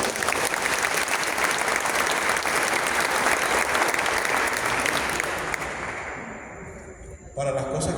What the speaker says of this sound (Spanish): Por démele un aplauso a ellos.